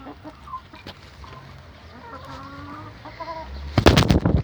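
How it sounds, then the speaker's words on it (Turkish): A chicken clucks in short calls, then loud flapping and squawking bursts near the end as it is caught by hand, close by. "Tavuk yakaladım tavuk."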